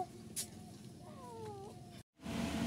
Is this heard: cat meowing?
yes